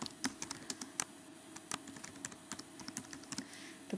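Typing on a computer keyboard at a desk, with irregular quick keystroke clicks spread across the whole stretch, close and fairly soft, with no talking.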